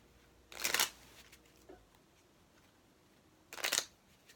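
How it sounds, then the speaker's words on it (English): Tarot cards are shuffled in two quick, crisp riffles about three seconds apart, close but soft against a quiet room, with a faint tap between them. "I heard you shuffle"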